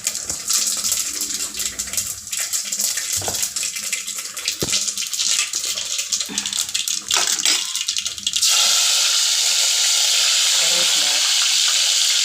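Mustard seeds and cumin fry in hot oil for sambar, a steady close sizzle with light popping and stirring clatter, turning into an even louder, smoother hiss over the last few seconds.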